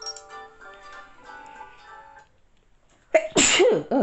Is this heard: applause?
no